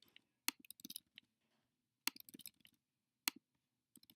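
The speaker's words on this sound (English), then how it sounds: "I'm just going to type in some letters here." Short bursts of keystrokes on a computer keyboard, clicking in quick clusters separated by pauses, close and clear with no talking.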